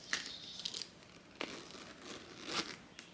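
An aged zipper on a vintage Bottega designer bag is pulled open, a few short scratchy zip strokes and crinkles of leather and lining, close and fairly quiet, with no talk.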